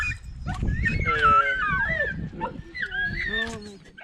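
Greenland sled dog puppy whimpers and whines in high, wavering cries, close by, repeated across several seconds with low background rumble and movement.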